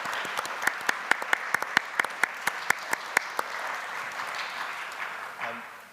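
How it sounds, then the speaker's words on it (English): Small audience at a church annual meeting clapping in a brisk, fairly even rhythm of distinct individual claps that tapers off over a few seconds before a voice briefly begins. "So could we give Natasha and Keith a round of applause?"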